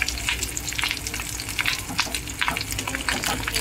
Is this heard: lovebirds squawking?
no